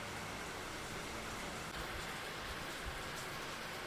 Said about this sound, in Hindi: देखो पीछे एकदम मस्त बारिश हो रही है।